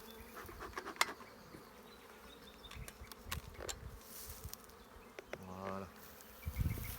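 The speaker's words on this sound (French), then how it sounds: "on voit qu'il y a des abeilles tout autour" Honeybees buzzing densely around an opened hive during a smoked inspection, a continuous close swarm hum with occasional individual bees passing near, plus faint handling knocks and rustles.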